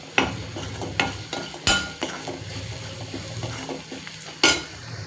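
Masala being stirred and sautéed in a pan for a whole masoor dal dish: close sizzling under repeated scraping strokes and sharp metallic clinks of a spoon against the pan at irregular intervals.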